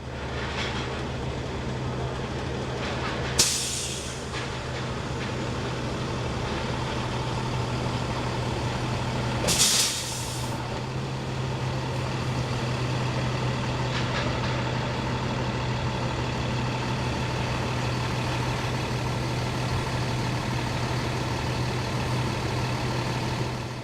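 A school bus idles steadily during a boarding demonstration, a constant low engine rumble with two brief sharp hissing bursts from the air brakes, no talking.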